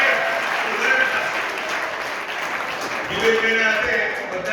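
An audience at a community gathering breaks into dense, sustained applause, a continuous wash of many clapping hands at fairly close range with faint voices mixed underneath.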